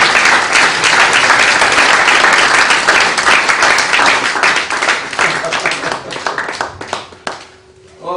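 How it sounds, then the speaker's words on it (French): A church congregation claps and applauds loudly and steadily in praise, and the sound thins to scattered claps before fading near the end, with voices mixed in. "Acclamons le Seigneur, frère."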